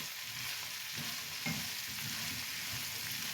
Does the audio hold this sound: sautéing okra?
yes